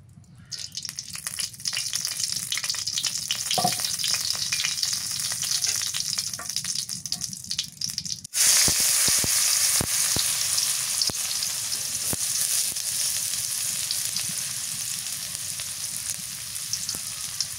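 Oil sizzling in a hot wok, a steady hiss that suddenly swells much louder partway through as more fried oil goes in, then a dense, crackling sizzle with scattered stirring clicks.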